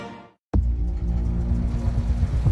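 A car engine running, cutting in abruptly after a brief silence and settling into a loud, close, steady low rumble with a slightly uneven idle texture.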